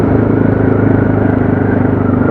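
A motorcycle rides along a road on a gentle early-season test ride, its engine a loud, close, steady droning rumble throughout.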